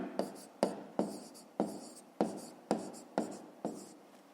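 A pen writes out a math solution on paper in about eight crisp, evenly spaced strokes, each a sharp scratch that quickly fades.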